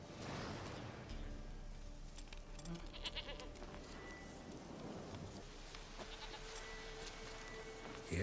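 Goats bleat repeatedly in The Witcher 3, with steady rain and rumbling ambience underneath across the whole stretch.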